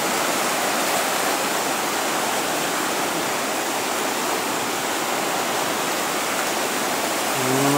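Flooded Razdolnaya river rushing and churning, a dense, loud, continuous roar of turbulent water with no voices over it.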